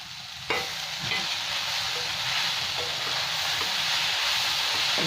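Sabudana poha with fried peanuts and lemon juice stirred in a hot pan on a gas stove, a close steady sizzle with scraping spoon strokes at irregular intervals, no voices.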